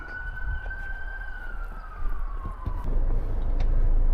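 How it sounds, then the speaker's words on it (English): A siren wails in the distance, a single rising and falling tone over low traffic rumble that gradually gets louder. "always a greeting of sirens, the beauty of sound"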